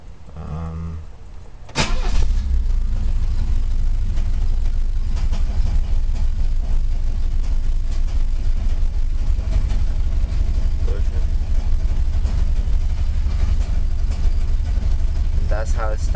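A 1966 Mercedes Heckflosse 200 fires up from a cold start and settles into a steady, loud, continuous idle close by, with no one talking over the engine.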